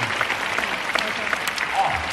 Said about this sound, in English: give another round of applause again to that Ninoy